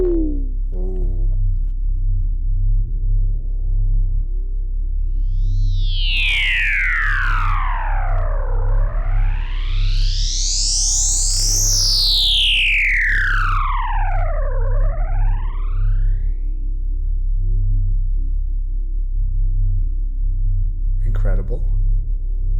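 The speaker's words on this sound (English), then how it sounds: "Let's start adding in proper distortion." A heavily distorted synthesizer drones with a gritty buzz while a sweeping tone glides up and down in wide arcs, loud and continuous.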